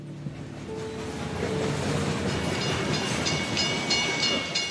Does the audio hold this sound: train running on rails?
yes